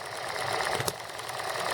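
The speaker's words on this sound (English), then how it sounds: "this little horizontal engine has really enjoyed running with one spring off the governor." A small model horizontal engine runs very slowly with one governor spring off, making a steady mechanical whir with a faint regular beat, close and continuous.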